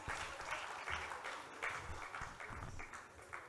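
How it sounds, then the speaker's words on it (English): Faint, steady applause fills the hall at an accountants' annual conference session, a continuous crackle of many hands clapping at a distance with no speech over it. "May we have a big round of applause?"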